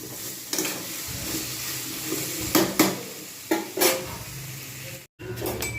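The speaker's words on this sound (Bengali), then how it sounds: "ঢাকনা দিয়ে আবার বেশ কিছুক্ষণ আমি এটাকে ভাজতে থাকবো।" Cauliflower and potato fry under a lid for poppy seed curry, giving a steady low crackle with a few sharper bursts and a brief cut-out near the end.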